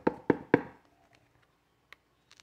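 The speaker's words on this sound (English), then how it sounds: "loud knock at the door." Loud knock at a door in a read-aloud story: three sharp, close raps in quick succession, followed by near silence with a few faint taps.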